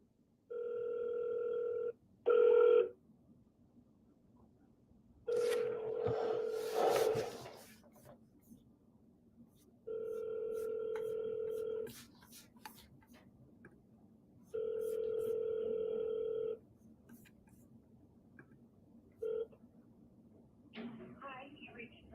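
Telephone ringback tone on an outgoing call, about five long steady ring bursts repeating every few seconds, clear and close, with brief speech between the rings.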